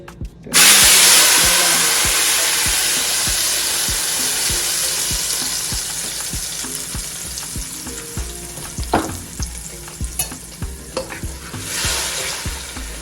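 Blended mixture hits hot oil in a pan while cooking a Guinean-style meatball stew, giving a loud, steady sizzle from the start that slowly eases, with stirring clicks and utensil knocks throughout.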